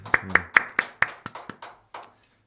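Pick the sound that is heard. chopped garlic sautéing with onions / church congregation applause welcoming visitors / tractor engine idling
church congregation applause welcoming visitors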